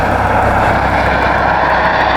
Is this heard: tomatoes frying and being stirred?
no